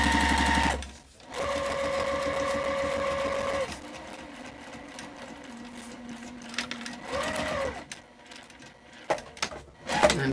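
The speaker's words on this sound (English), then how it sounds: "Now I'm just gonna sew straight down that line." Sewing machine running a straight seam on a jellyroll tote bag, a close, steady motor whir with rapid needle chatter that starts and stops, with a short pause and brief speech near the end.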